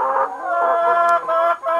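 Hens on an organic egg farm in Cardet, Gard, cluck and warble together in a continuous close chorus, fairly loud and with no talk.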